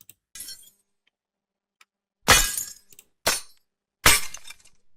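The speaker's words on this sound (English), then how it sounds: "It will generate 2 variations of 10 seconds medieval combo sound." Three sharp, bright crashes ring out one after another like metal striking or glass breaking, separated by brief silences, with faint clinks between; an AI-generated medieval combat sound effect.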